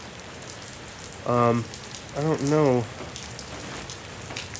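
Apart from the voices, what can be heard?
rain falling on a Six Moon Designs Gatewood Cape shelter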